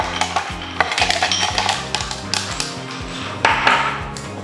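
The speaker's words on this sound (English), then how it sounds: "Let's put some ice into our shaker." Ice cubes clatter and clink loosely into a metal cocktail shaker for a painkiller cocktail, with a series of sharp, close, ringing knocks against the tin.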